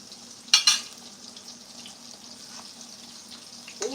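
Pork chops frying in a pan give a soft, steady sizzle, broken by two sharp clattering bursts near the start, probably utensil or pan contact, and a brief clink at the end. No one speaks.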